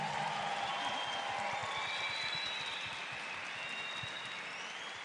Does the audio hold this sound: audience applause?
yes